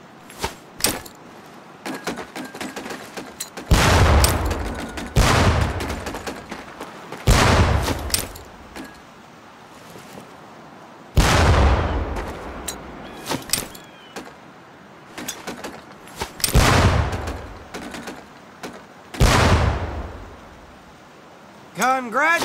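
Training grenades exploding among barrels in Medal of Honor Pacific Assault, about eight dull thumping blasts spaced a few seconds apart, each with a short decay, over a quiet outdoor range ambience.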